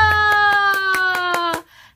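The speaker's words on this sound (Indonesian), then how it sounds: "Semuanya tepuk tangan, ayo." Children clap along during an online church service, eight evenly spaced claps cutting through a sustained sung or played tone that then stops abruptly.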